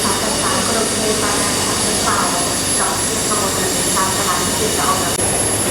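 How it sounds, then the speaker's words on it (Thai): Loud rumbling of an old Thai railway train with steady mechanical roar and a high whine, occasional faint voices underneath as the train pulls away from the station. "ฝั่งนี้ก็ออกไปนะครับ รถไฟ ของไทยนะครับ"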